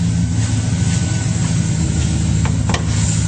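A 2007 Chevrolet Silverado 1500, a lifted truck, idles smoothly with the hood up, giving a steady, loud low rumble that continues evenly for several seconds.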